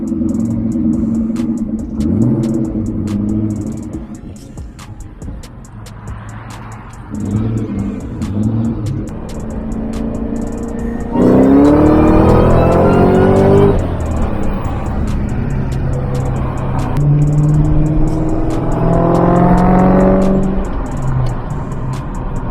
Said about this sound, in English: you listen to that burble of that exhaust on the back.